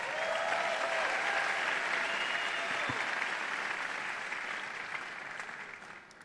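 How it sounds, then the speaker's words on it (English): An audience at a youth forum inauguration applauds steadily for several seconds, a dense wash of clapping that slowly tapers off toward the end. "Another round of applause for Panache, ladies and gentlemen"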